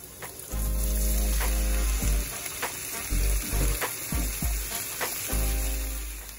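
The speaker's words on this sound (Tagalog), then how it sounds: "Kapag luto na po ang ating sibuyas, pwede na po natin ilagay ang ating mga hipon." Shrimp go into a pan of onions cooking in butter, producing a loud, close sizzle with bursts of hissing and scraping stirs over a low rumbling background.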